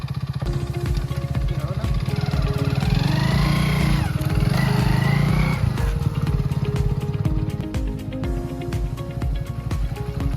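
A motorcycle engine runs close by on a rural road, a loud, steady droning hum that swells slightly in the middle and then settles back to an even idle.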